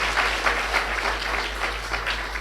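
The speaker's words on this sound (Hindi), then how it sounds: "ताली बजाओ।" An audience at a Brahma Kumaris spiritual class claps together in a steady, moderately loud patter of many hands, with a low constant hum running beneath it.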